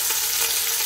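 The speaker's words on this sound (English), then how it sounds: "I'm going to sear this for 4 to 5 minutes on each side." Beef pot roast searing in a hot Ninja Foodi, a loud continuous sizzle over a brief moment with no voices.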